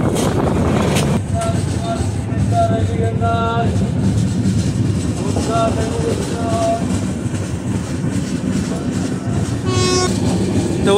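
The Vivek Express, the long-distance Dibrugarh–Kanyakumari train, rolls into Brahmapur station with a loud continuous rumble and clatter, repeated horn toots sounding through it, heard from on board.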